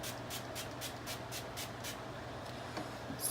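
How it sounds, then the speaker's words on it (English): A pump setting spray mists repeatedly onto a face in quick, even hisses, about ten short spritzes close by against a quiet background. "now I'm going to set my face with the Dewy setting spray from them"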